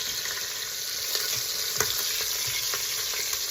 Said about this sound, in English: Our new ones are in, our next second batch